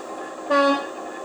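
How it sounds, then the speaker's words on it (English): One brief low-tone air horn blast from an Accurascale Class 66 model locomotive, roughly a quarter second, rises clearly above a constant mechanical hum. "is a low tone air horn."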